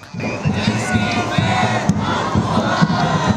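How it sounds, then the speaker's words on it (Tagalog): A dense crowd of participants shouts and cheers at the Batangas City fiesta civic parade, a loud, continuous outdoor roar with low rhythmic pulses beneath. "hiyawan ng mga kalahok"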